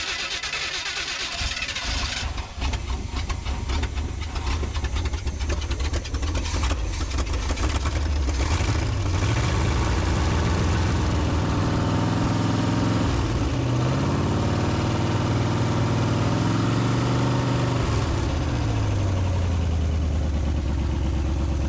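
A 1978 Chevy truck engine idles steadily with a low, uneven rumble and bad exhaust, rising and dipping slightly in pitch a few times over the running drone.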